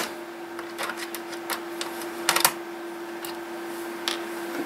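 Screws being removed with a screwdriver from the cassette deck of an Aiwa boombox during a repair, heard as scattered clicks and small metallic ticks over a steady hum, with a louder cluster midway.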